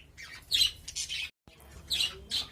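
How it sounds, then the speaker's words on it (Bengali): Young budgerigars, about two to two and a half months old, let out two bursts of harsh, bright squawking, close by, with a brief silent gap between them. "পাখিটি ভালো পাখি, নো ডাউটলি ভালো পাখি।"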